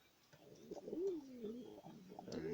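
A young hand-raised pet pigeon cooing softly, a few low, rolling warbled coos in a quiet indoor space, faint and close.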